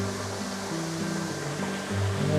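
Steady rushing water through a gristmill flume with a low, continuous churn, loud and close, no voices; Cable Mill, Cades Cove, Great Smoky Mountains.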